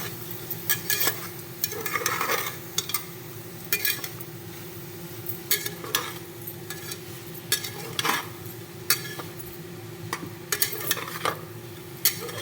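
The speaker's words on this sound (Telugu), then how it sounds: "కొంచెం ఇందులో మిల్ మేకర్ తగ్గ సాల్ట్ వేసుకొని ఫ్రై చేసుకోవాలి." Soya chunks with salt fry in a pan under a soft sizzle, while a utensil scrapes and clinks against the metal in repeated stirring strokes, close and moderately loud.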